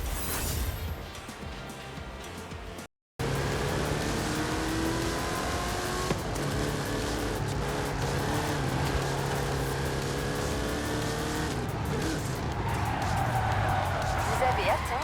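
A 1957 Nash Custom car driving in Forza Horizon 5, its engine droning steadily with tire noise and brief skids, while speech runs over it.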